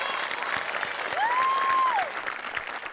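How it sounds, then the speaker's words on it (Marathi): A studio audience at a Marathi comedy show claps steadily throughout, with a sustained whistle-like tone rising over the middle of the applause. "त्यांच्या स्पिरिटसाठी टाळ्या वाजवूया."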